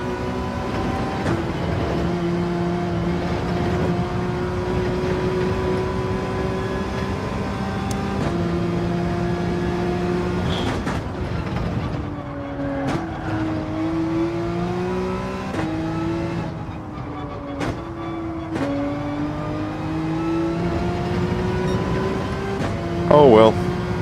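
A race car engine in Gran Turismo 7 drones and climbs through the gears, its pitch stepping down sharply at several downshifts, loud and continuous throughout with a voice talking over it.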